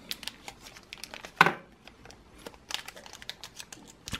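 Thin plastic packets crinkling and rustling as a parcel holding HDMI adapters is unpacked by hand, with one loud sharp crackle midway and softer intermittent crinkles before and after.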